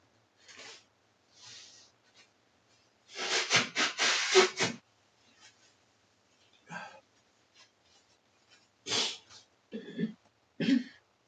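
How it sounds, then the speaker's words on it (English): Someone blows their nose in a few short, sharp, close bursts, the loudest a long forceful blow, separated by quiet gaps. "give me 1 second to blow my nose"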